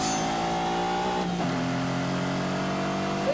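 A Lamborghini Countach's 5.2-litre V12 engine accelerates hard with a loud, steady roar that climbs in pitch, then dips briefly at a gear change before rising again.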